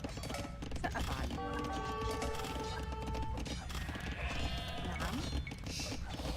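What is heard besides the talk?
sheep bleating in Age of Empires II video game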